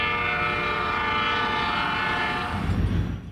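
FEC 153 steam locomotive sounds its Southern Pacific six-chime whistle across sugar cane fields at Clewiston, a rich, steady multi-tone chord held for about two and a half seconds before fading, with a low rumble and brief clatter at the end.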